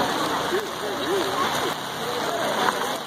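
Rain falls steadily at an outdoor farmer's market, a constant close hiss of drops on surfaces under faint background voices.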